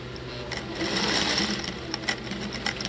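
A sewing machine stitching patchwork edging onto a hoodie, running steadily at a moderate pace with a continuous whirring buzz and faint rhythmic needle ticks, close and alone.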